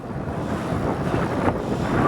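Steady wind buffeting the microphone, a broad rushing roar that swells slightly, with no voices.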